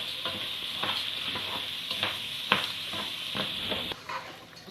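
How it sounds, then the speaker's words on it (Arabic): Rice is stirred with onion and spices in a pan, giving a steady sizzle with repeated scraping strokes of the spoon against the pan through the whole stretch, close and fairly loud, with no talk. "نقلبه حلو معاها."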